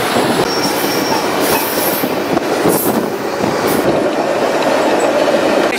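A 1.5-mile-long freight train rolls past close by in Nevada, a loud continuous rumble with clattering wheels and occasional metallic squeals.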